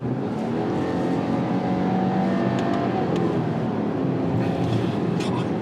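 Subaru Outback engine revving steadily as its CVT mimics stepped gear changes, a continuous loud cabin drone with slight rises and falls, no talking.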